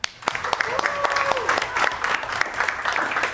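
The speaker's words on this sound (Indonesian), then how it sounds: "Silakan kasih aplaus buat Reinhard." A classroom of students claps in a brief burst of applause, dense overlapping handclaps close by, with a voice speaking over it.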